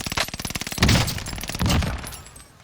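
Rapid automatic fire from an MG42 machine gun in the video game Warzone, in a fast, steady rhythm, loud and close, with a few heavier bursts mixed in.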